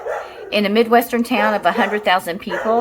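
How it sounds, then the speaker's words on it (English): Dogs barking in short bursts in the background of a home lecture recording, under continuous speech from a man explaining a math problem. "I'm sorry about my dogs"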